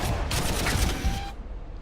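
A rapid burst of game gunfire from a weaponized unit in the Armageddon video game, a dense rattling volley filling the first stretch before cutting off into a quieter tail.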